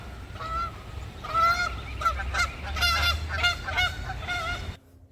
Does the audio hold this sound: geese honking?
yes